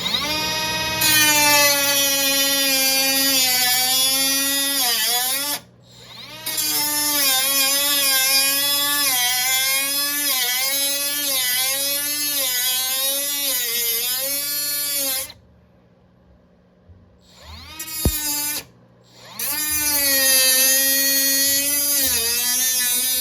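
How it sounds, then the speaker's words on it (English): A small Milwaukee power saw cuts through the steel firewall of a BMW E30 during an LS swap, giving a loud, steady high-pitched whine with rising and falling pitch, broken by two short pauses and a brief stop near the end. "So, firewall cutting time."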